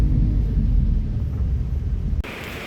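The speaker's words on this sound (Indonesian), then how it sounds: "Untuk perjalanan kali ini kita ditemani sama hujan deras dan juga disertai petir teman-teman." Thunder rumbles during heavy rain outside a sleeper bus travelling from Jogja to Rimbo Bujang, a loud low roll that fades out before cutting to quieter cabin noise.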